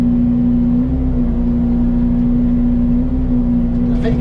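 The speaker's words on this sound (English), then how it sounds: "this is just a cutting machine, and it can cut both directions just as good" A mulcher cutting head on a mini excavator runs steadily throughout, a loud, constant droning hum with a strong low engine tone and no breaks.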